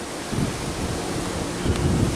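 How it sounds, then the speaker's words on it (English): Steady gusting wind roars across the microphone, a broad rumbling wash that swells and buffets throughout with no voices. "It's windy."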